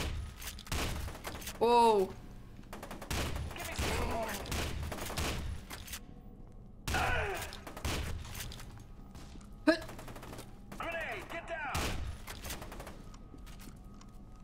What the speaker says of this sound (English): We're gonna switch to our shotgun just to see.